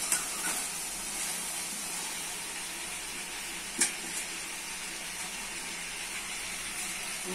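Potato and jackfruit pieces sizzle in a pan of fried spiced masala, giving a steady, close, even hiss with a single brief louder crackle partway through.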